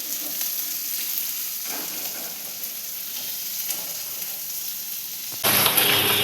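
Green chilli and tomato sautéing in a pan for a mutton dish, a continuous frying sizzle with a few faint stirring scrapes, then a sudden louder, brighter burst of hiss near the end.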